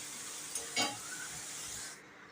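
Fish heads frying crisp in hot oil give off a steady, close hiss and sizzle, with a brief stir partway through before the sound drops away at the end.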